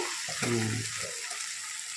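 Sliced okra frying in a pan with chilli powder, a soft continuous sizzle with a brief stir and clatter near the start, fairly quiet and close.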